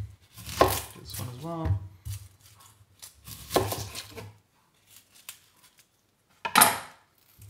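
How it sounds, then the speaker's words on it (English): A knife chops onions on a cutting board in several separated bursts of quick crisp strikes, close and fairly loud, with a brief spoken remark between them. "then chopping them after we get the outside layers off"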